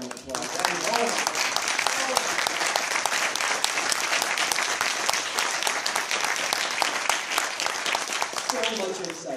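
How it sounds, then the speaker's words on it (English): Sustained audience applause for a guest speaker at a job-interview tips session, thick and continuous, with a few voices and cheers rising at the start and end. "Guys, give Jasen another round of applause."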